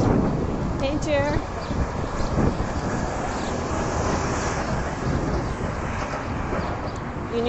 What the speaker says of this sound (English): Ooh, that's a lot of wind.